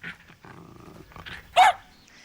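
A dog growls low and steadily for a moment, then lets out one loud, sharp bark close by before falling quiet.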